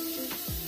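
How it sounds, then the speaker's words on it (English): Baking spray with flour hisses from an aerosol can in a short, steady, close spray lasting under a second. "This is that spray."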